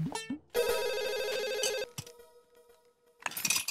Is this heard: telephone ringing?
yes